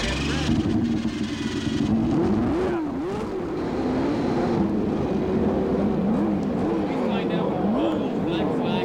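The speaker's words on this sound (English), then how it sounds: "So the drivers now in their cars, engines started" Indy car engines at the 1993 Portland race, with a constant broad roar and revving that rises and falls in repeated swoops, heard under a commentator's voice.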